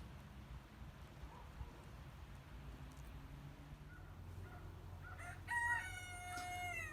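Rooster crowing near the end of the take, a harmonic call rising over steady rain-like hiss and breezy outdoor rumble, with a few faint chicken clucks before it; backyard flock outdoors on a windy day.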